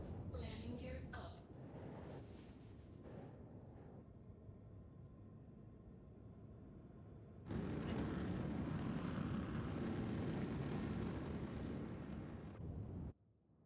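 Large Hull C cargo ship in Star Citizen, flying after its landing gear retracts: a broad engine rumble and roar that drops to a lower drone, then swells into a loud, sustained thrust before cutting off abruptly.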